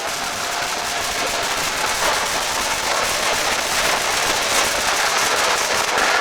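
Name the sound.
fireworks exploding in a wrestling match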